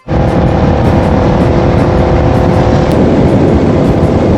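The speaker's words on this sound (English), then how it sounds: "Accelerating and decelerating past a truck this morning." A vehicle on a road in South China accelerates past a truck, its engine holding a loud, steady roar close to the microphone for several seconds, with no talking.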